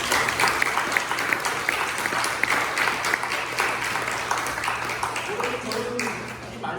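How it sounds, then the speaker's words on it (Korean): A church congregation at a Christmas Sunday service claps together in a steady, dense wash of applause, with a faint low hum beneath and a few voices near the end. "우리 다 함께 박수로 겨자씨 전도회에 감사합시다."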